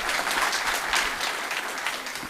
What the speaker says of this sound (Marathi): तुमचं अभिनंदन करण्यासाठी जोरदार टाळ्या वाजवू